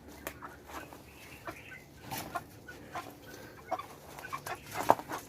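Black naked-neck chickens cluck and chatter in a farm pen, with soft, scattered calls at close range and a sharper squawk near the end, with no talking over them.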